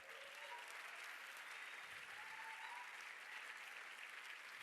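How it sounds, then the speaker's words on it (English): An audience at a film award event applauds an actor coming onstage, a faint, distant, even wash of many hands clapping, steady for several seconds with no voices over it. "Can we get the biggest round of applause on the stage for actor Dermot Noyes,"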